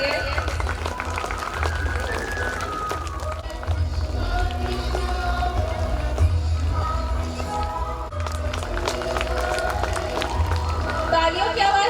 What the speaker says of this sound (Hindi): प्लीज ताली बजाते रहिए.